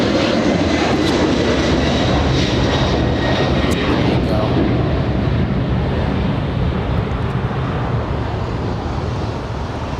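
A Boeing 747 takes off at Los Angeles International Airport, its jet engines producing a loud, continuous roar that stays powerful for the whole stretch and slowly eases toward the end.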